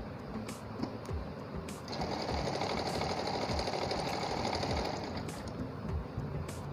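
A Janome J 639 electric sewing machine runs a lock stitch, a steady close mechanical whir with rapid needle ticking that rises and holds through the middle, with no talking.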